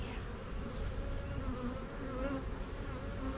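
Honey bees at a hive give off a steady, dense buzzing drone that stays close and even throughout.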